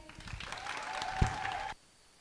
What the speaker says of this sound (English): let's have another round of applause for your new favorite aunt, Jessie Funk